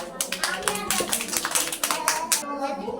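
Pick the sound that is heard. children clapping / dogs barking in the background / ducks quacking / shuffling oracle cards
children clapping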